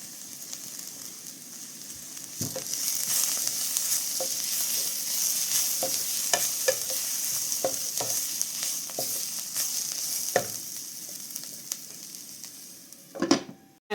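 Ground spice paste and already-cracked mustard seeds go into a pan for a Sri Lankan-style mango curry, with a steady sizzle and frying hiss throughout and scattered spoon scrapes and stirring clicks, loud and close with no talk.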